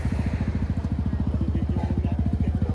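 A QJMOTOR ATR 160 motorcycle fitted with an aftermarket exhaust idles close by, its low throbbing pulses coming in a fast, even rhythm throughout, with no voices over it.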